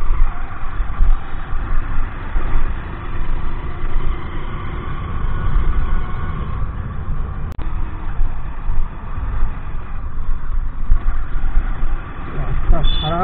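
A Royal Enfield Bullet motorcycle riding on the NH34/NH12 highway toward Barasat, a loud, constant low engine rumble with road and wind noise throughout; a rider speaks over it.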